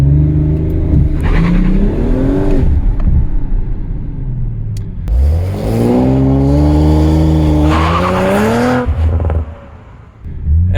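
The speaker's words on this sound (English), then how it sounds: "if you let go of the brake, you will go as fast as possible." A 2024 Audi RS5 launches hard with launch control, its engine roaring loudly and close up through rising revs and gear changes, a brief lull, then another strong surge before easing off, with no talk.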